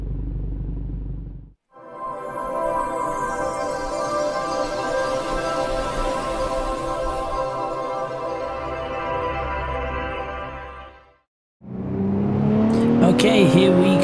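A BMW 1M Coupe engine on the Nordschleife in the Assetto Corsa racing game, a loud, sustained drone that rises and holds, broken by two short drops near the start and the end, with a voice at the close.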